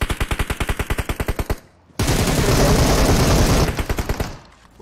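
Rapid bursts of automatic gunfire in the game PUBG Mobile rattle in an even rhythm, pause briefly, then a dense sustained roar of shooting follows before fading.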